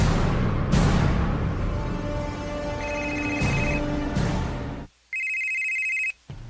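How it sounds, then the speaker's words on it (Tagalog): A cellphone rings with a repeating electronic tone, loud and close, over a busy background of music and ambience, then carries on almost alone. "Oh, ang akong cellphone."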